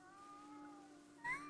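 One short, faint meow from a cat in Ghostwire: Tokyo rises briefly near the end, over a quiet steady hum.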